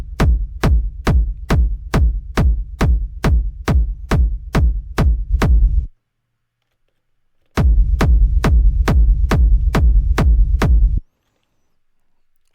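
A punchy techno kick drum thumps in a steady, fast four-on-the-floor pattern, loud and dry. It plays two separate runs of about a dozen hits, with a silent gap between them.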